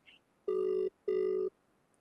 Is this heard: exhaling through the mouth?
no